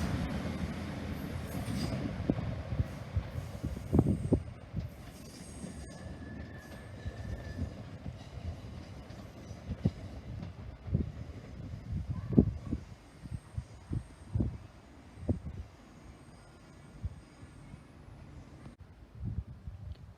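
An Avanti West Coast train from London Euston to Liverpool Lime Street runs through Liverpool South Parkway station, with rumbling wheels, rhythmic clicks over rail joints and occasional squeals building and fading over about twenty seconds.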